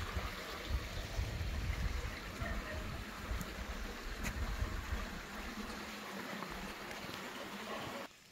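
Stream water flows steadily near a waterfall by a small wooden footbridge in wooded countryside, a constant close broadband rush and gurgle that continues without break and stops abruptly at the end.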